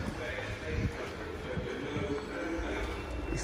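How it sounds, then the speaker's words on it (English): Steady rumble and clatter of a London Underground train at Stepney Green station, with broadband mechanical noise and faint voices mixed underneath. "I mean the underground train."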